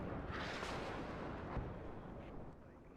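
Artillery fire in the WARNO real-time strategy game rumbles as a dense, continuous barrage of booms and blasts, loud and sustained throughout with no talk.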